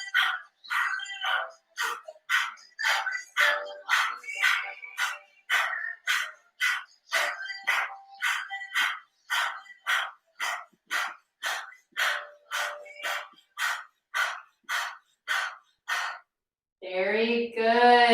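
A person pants rhythmically with the tongue out in imitation of a dog, as a breathing exercise in a meditation practice, giving about two dozen quick, even, breathy huffs up close, followed by a brief voiced sound at the end.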